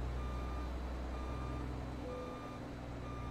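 A truck in American Truck Simulator backs a trailer into place, its reversing alarm beeping steadily at a regular rhythm over a low, constant diesel engine idle.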